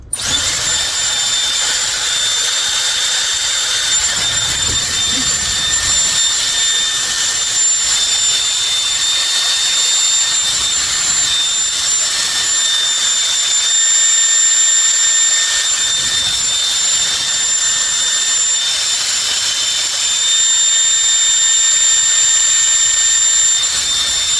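A Dyson Airwrap hair styler blows hot and then cold air while styling short bob-length hair, producing a loud, constant rushing whoosh with a thin high whine that runs throughout without speech.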